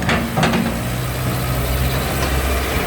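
Kobelco SK045 mini excavator diesel engine idling, a loud, steady low rumble heard up close and unbroken, with a few brief higher clicks near the start.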